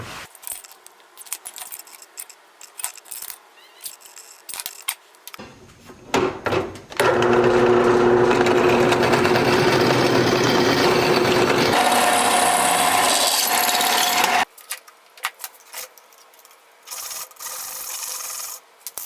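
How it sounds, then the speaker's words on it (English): A power drill whirs continuously for several seconds, grinding through metal with a rising and shifting pitch, framed by handling clatter before and after. "So let's drill some holes."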